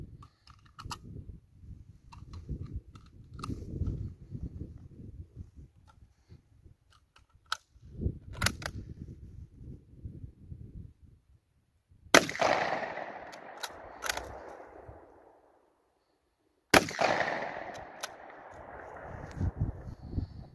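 A 16 gauge bolt action shotgun fired outdoors, two sharp loud blasts with trailing echo and gaps between them, mixed with handling clatter and rustling, no talk.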